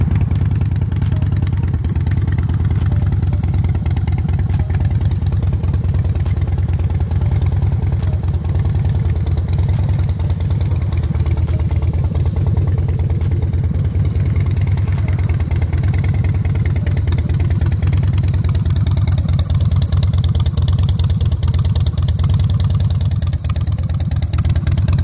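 A 2005 Harley-Davidson Softail Deluxe motorcycle engine runs steadily, a loud, close, continuous low rumble with a throbbing idle character and slight rises in revs, with no talking.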